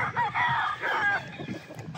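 An Early Bird line gamefowl rooster crows one loud, close call with a strained, broken ending, followed by a few softer clucking notes, with no talking.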